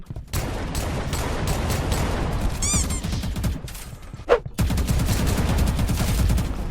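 Rapid gunfire in the Roblox shooter Untitled FPS, dense automatic bursts with a brief pause and a sharp single crack, loud and continuous, no talking.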